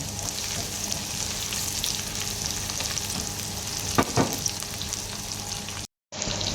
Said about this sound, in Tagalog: So ilalagay na natin guys yung ating bawang.